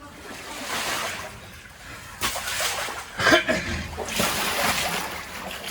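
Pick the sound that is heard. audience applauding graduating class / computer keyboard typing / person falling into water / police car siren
person falling into water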